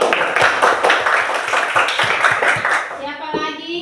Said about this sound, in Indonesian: tepuk tangan dulu kepada Sheryl